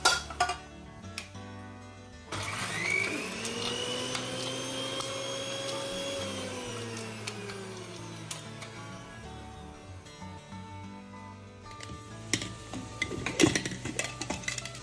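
An electric mixer grinder crushes coconut, cumin and garlic without water, a steady whirring drone running nearly the whole time at close range, with clinks of the jar and lid at the start and end.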